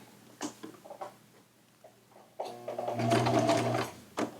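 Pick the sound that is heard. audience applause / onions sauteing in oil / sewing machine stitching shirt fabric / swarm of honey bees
sewing machine stitching shirt fabric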